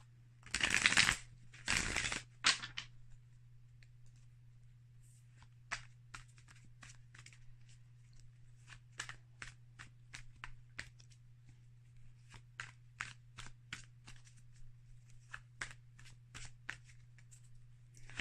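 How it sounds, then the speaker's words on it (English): A tarot deck is riffled in two or three loud bursts, then a long run of softer, quick flicks and taps as the deck is shuffled by hand. "Shuffle the deck."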